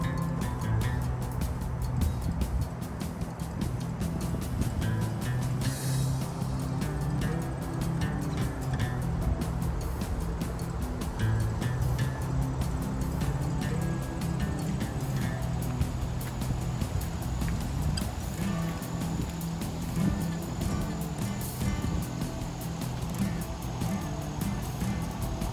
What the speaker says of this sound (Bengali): উপরে এটা হচ্ছে ডন ভ্যালি হাইওয়ে। হাইওয়ের নিচে দিয়ে আমি এখন যাচ্ছি।